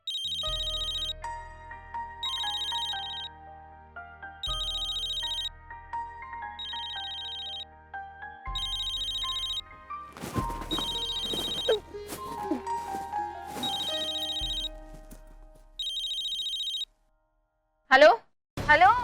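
A telephone ringing repeatedly late at night in a Hindi drama scene, regular bursts of a bright electronic ring with short pauses between them, joined by a music cue partway through.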